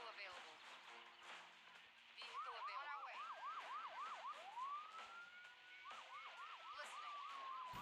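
An ambulance siren in the mobile game Emergency HQ cycles through rapid yelps and a long rising wail, fairly distant, over background chatter and ambient noise.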